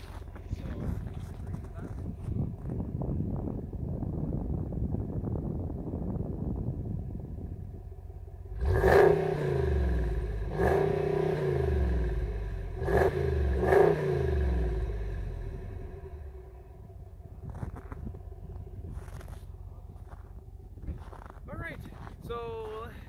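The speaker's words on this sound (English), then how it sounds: "I'm gonna give it an exhaust clip." A 2018 Ram 2500HD with the 6.4-liter Hemi V8 idles, then its exhaust roars through three sharp revs before settling back to a steady idle, with someone talking over the idle.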